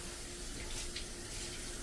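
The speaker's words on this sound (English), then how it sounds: "I'm running them under some cool water" Onions rinsed under cool running tap water, a steady close hiss of flowing water filling the whole stretch at moderate level, with no talking.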